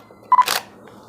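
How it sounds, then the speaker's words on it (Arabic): A Nikon D7100 DSLR takes a single photo: a quick close mechanical shutter clack with a brief double click just before it, then near silence. "خلينا نفتح الكاميرا وخلينا نصور صوره"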